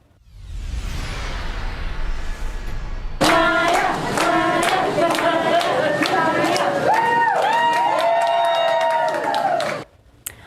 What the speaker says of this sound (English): Applause and cheers this morning for a 10-year-old hero